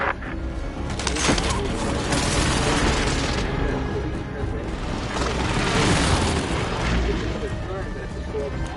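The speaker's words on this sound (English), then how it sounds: "Airstrike target designated. This is Phoenix 3. Strike inbound." Airstrike explosions in the online shooter Call of Duty Warzone / Cold War: a loud, dense, rolling barrage of deep booms and rumbling blasts filling the whole stretch, with a voice talking over it.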